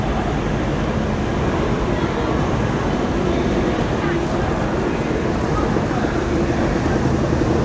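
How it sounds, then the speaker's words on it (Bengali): An elevated train passes overhead near Masjid Jamek in Kuala Lumpur, Malaysia, with a loud, continuous rumble that fills the whole stretch without letting up. "ওই উপর দিয়ে যাচ্ছে ট্রেন"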